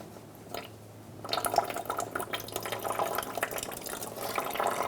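Coolant from a 2002-2006 Honda CR-V radiator starts splashing into a drain bucket after a short quiet lead-in, becoming a steady close trickle with small drips and bubbling that grows slightly louder.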